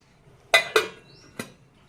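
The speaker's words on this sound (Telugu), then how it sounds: "2 నిమిషాలు మనం దీనిపైన మూత అనేది పెట్టేసుకుందాం" A metal lid set down on a pan while gulab jamun cook, giving two quick close clinks followed by a lighter tap a moment later, with no talk.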